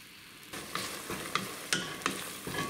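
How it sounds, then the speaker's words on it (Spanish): Ground beef sizzles steadily in a pan that was just used to fry pasta, with a few sharp spatula scrapes cutting through the close frying hiss and no talk. "Dejamos aquí a que se fría la carne."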